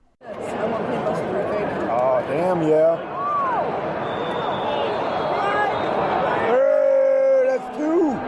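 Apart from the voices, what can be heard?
football stadium crowd reacting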